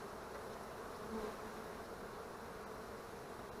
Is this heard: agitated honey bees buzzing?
yes